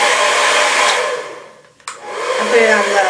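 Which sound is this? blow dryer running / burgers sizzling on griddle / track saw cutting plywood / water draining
blow dryer running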